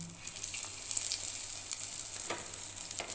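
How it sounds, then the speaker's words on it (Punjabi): Aloo tikki frying in a pan, a steady soft sizzle of hot oil with faint crackles, close and quiet with no talking. "ਟਿੱਕੀ ਆਪਣੀ ਫਰਾਈ ਹੋ ਗਈ"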